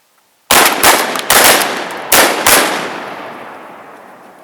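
Shotgun blasts fired at wood ducks on a swamp duck hunt: four loud, close shots in quick succession after a moment of quiet, the last ones ringing out in a long fading echo.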